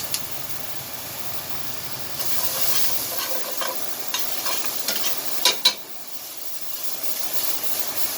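Onions and garlic hit the remaining oil in a pan and sizzle with a steady hiss, while stirring adds scraping clicks and a few louder knocks in the second half. No speech.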